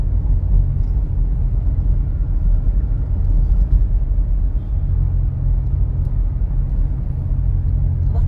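Northbound highway traffic on the MCX during the evening rush, heard as a loud continuous low rumble of tires and engines from inside a moving car, with no voices.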